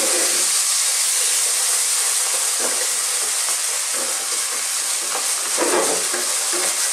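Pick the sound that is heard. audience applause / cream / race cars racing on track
cream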